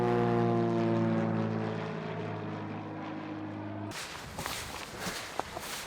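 A propeller-driven floatplane or bush plane arrives for a pickup in the Alaskan wilderness, its steady droning engine hum loud and near at first, then fading and giving way to rustling and handling noises close by.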